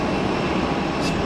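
Small Piper PA-28 Archer light aircraft on final approach at Geneva airport, a steady broadband engine and wind roar, loud and unbroken over the whole moment, with no talking.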